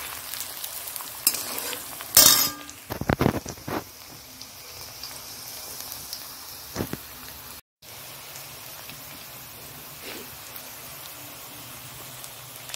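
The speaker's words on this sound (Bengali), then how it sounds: "পেঁয়াজটা একটু লাল লাল ভাজা হচ্ছে" Onion frying in a pan with cumin seeds, bay leaf and dried chilli for a cauliflower chilli dish gives a steady soft sizzle, with a burst of stirring and utensil scraping early on before the frying settles back.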